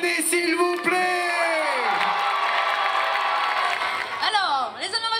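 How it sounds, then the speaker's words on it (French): A crowd at a Geekali 2022 gaming event cheers, whoops and shouts for the player Kayane. The cheering is loud and sustained, with many overlapping high voices close by and a second burst near the end. "Faites un tonnerre d'applaudissements et un bordel pour Kayane"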